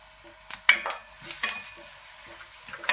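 Onion, garlic-coconut paste and curry leaves sautéing in oil, a quiet background sizzle punctuated by a few stirring scrapes and clinks of a spoon, close and unaccompanied by talk.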